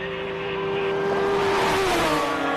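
Race car at full throttle on a hillclimb course at the Simola Hillclimb King of the Hill shootout, engine roaring loud and close with a steady high-pitched tone that shifts as it charges past.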